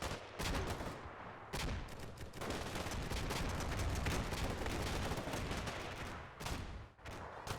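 Gunfire and grenade launcher fire from Combat Mission: Black Sea, a dense, sustained barrage of loud overlapping shots and bursts with brief lulls, continuing for several seconds.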